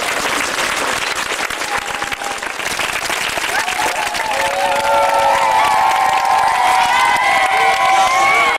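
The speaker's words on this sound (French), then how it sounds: "Applaudissez encore très fort." Loud, continuous applause from a crowd gathered at a school event at École Saint-Martin, dense clapping with some cheering and children's shouts, while a voice speaks faintly through the noise.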